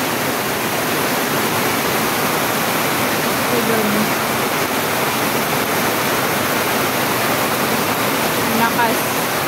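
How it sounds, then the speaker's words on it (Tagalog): Heavy typhoon rain pouring in a dense, constant roar, loud and steady throughout with no pauses. "Lakas ng ulan."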